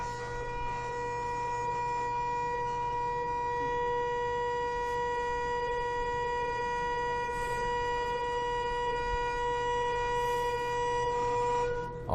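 A long, sustained trumpet-like blast holds one steady tone for about twelve seconds, loud and unbroken, and is as harsh and even as a civil defense siren.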